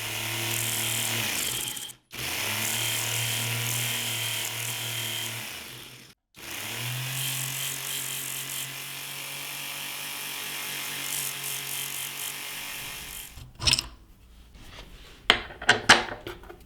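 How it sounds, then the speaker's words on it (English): A small belt sander driven by a rotary tool's flex shaft whines steadily while sanding silver wedding rings, with brief stops between passes and a few clicks and taps at the end. "Let's get started now with the belt sander."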